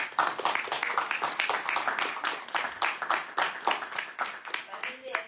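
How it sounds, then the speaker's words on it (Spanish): Audience applause at a book presentation for Uruguayan author Alicia, dense and steady clapping from many hands, loud and close, running the whole stretch and tapering slightly at the end. "un aplauso para Alicia."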